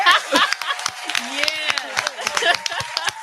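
Scattered clapping from a small group marks a conference announcement, with excited voices and brief laughter mixed over the claps.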